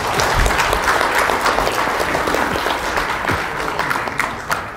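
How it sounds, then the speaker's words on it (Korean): Audience applause welcoming a lecturer at a public history lecture, a dense, steady clapping crowd heard close and loud throughout, tapering slightly toward the end. "큰 박수로 이덕일 박사님을 모시겠습니다."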